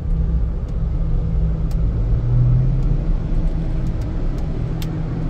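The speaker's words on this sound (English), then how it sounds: "That noise you hear is the generator." A diesel generator powering a supermarket during a hurricane outage in Puerto Rico gives a steady, loud low rumble and drone with no pauses, with faint passing traffic mixed in.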